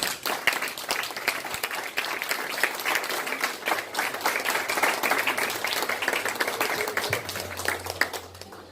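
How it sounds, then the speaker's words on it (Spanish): A church congregation gives a loud, prolonged round of applause during a worship service. The dense, steady clapping of many hands runs without pause, and a low sustained tone comes in beneath it near the end. "Dale un fuerte aplauso a Jesús"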